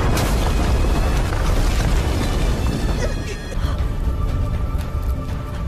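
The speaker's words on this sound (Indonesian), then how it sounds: "ledakan besar di dalam makam" A loud, sustained rumbling blast inside a tomb, from the animated series Martial God Asura, with crackling debris filling the clip, slowly easing as higher ringing tones emerge.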